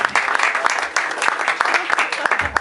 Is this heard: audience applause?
yes